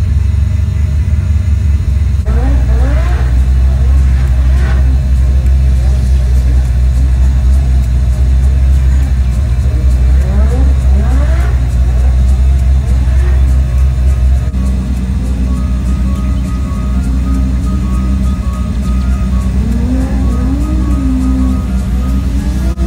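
A drift car on a race circuit runs on track to warm its tyres, its engine rumbling loudly and steadily with repeated rises in revs and a near, continuous drone throughout.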